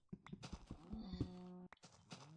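Cows mooing in Minecraft, several drawn-out game moos overlapping amid other farm-animal noises, fairly loud with no talk.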